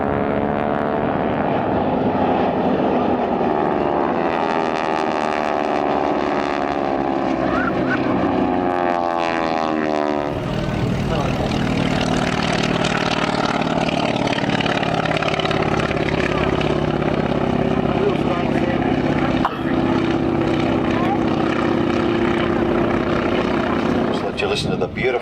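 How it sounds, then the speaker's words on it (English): A Rolls-Royce Merlin aircraft engine drones loud and steady over an airfield at an air force centenary display, its pitch shifting as the plane passes, with a voice talking underneath. "Listen to the beautiful Rolls-Royce Merlin engine."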